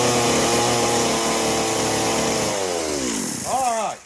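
A chainsaw runs loud and close as it carves a pine stump, holding a steady whining drone before the engine winds down and cuts out at the end.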